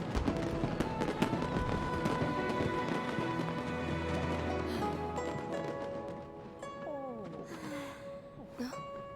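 A firework whistles up and bursts in the Genshin Impact video game, its rising and falling whistles and a sharp pop near the end heard over busy game music and effects.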